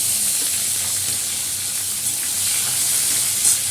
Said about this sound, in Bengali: এই কাঁচা লঙ্কা ফোড়ন দিয়ে দিলাম, এই পাঁচ ফোড়ন দিয়ে দিচ্ছি